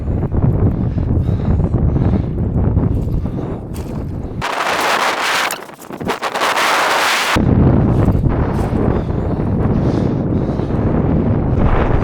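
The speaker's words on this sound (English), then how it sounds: "The bloody wind, it just won't let up." Strong wind blowing outdoors by the water during yabby netting, roaring and buffeting the microphone in a loud continuous rush, easing briefly in the middle before surging back.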